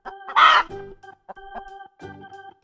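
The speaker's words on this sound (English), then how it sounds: "chicken." A chicken clucks and squawks in short, loud bursts, one strong cackle followed by several quicker clucks over a steady musical backing.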